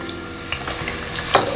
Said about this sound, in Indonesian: Saya masukkan dulu bawang merah yang sudah dirajang tipis tadi ya.